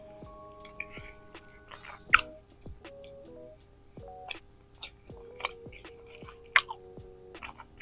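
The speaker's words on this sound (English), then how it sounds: "I don't want to talk to you while I'm chewing." A person chews food close to the microphone, with soft, irregular wet clicks and mouth sounds spread over several seconds against a quiet room hum.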